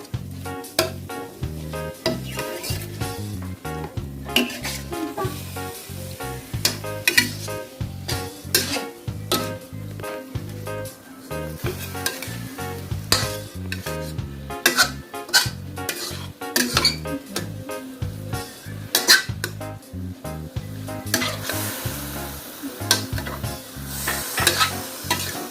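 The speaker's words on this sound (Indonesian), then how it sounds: "Kita tumis dagingnya sampai matang dan kering ya." Meat sautés in a pan until browned and dry, with constant sizzling and frying under the repeated scrape and clink of a utensil stirring against the metal, close and fairly loud.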